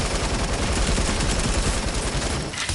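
Rapid submachine gun fire in a video game, dense continuous bursts of loud shots filling the whole stretch before easing off at the very end.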